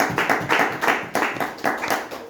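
A church congregation claps in praise of the Lord, a steady, rhythmic run of hand claps at a brisk, even pace, fairly close and with no talking.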